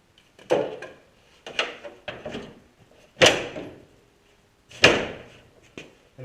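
Hood of a replica Audi Sport Quattro being lowered and shut during fitting work, giving several sharp, close thuds spaced a second or so apart, each dying away quickly, with no talk.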